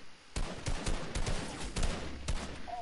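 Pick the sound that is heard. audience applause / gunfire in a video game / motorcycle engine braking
gunfire in a video game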